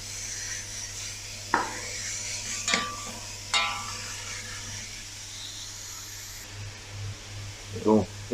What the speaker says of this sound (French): Et on continue à bien faire fonder la blette.